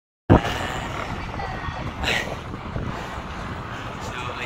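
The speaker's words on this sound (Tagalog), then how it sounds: "Kasi medyo mahangin na." Wind roars into the microphone after a sudden start, a steady buffeting rush with a gust swelling briefly midway.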